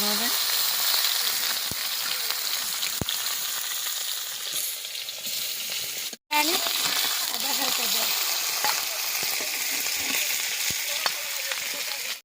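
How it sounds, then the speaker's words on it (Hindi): Hilsa fish coated in turmeric fries in oil in a kadhai with a loud, steady sizzle and crackle and a few sharp clinks, broken by one brief cut of silence near the middle. "बर्तमान माछ भजा आरंभ हो जाइए"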